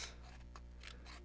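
Scissors cut paper for cardmaking, several quiet crisp snips spaced irregularly over a faint steady background hum, close and soft.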